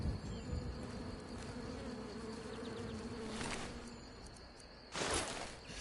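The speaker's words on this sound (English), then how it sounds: "I hear the sounds of flies and buzzing bees" Flies and bees buzzing around a dead bandit's body in Skyrim Special Edition on PS4, a steady close insect drone with a louder buzzing swell near the end.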